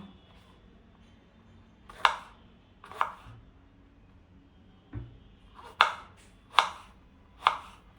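A knife slices snake gourd very thinly on a board, giving six crisp chops spaced roughly a second apart, close and fairly loud against a quiet room.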